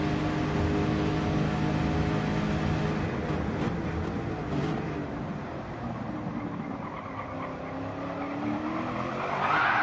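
A Nippon GR2 Super Cup race car spins its rear wheel out of a corner, engine roaring steadily with a rising tire squeal toward the end, loud and continuous, with no talking.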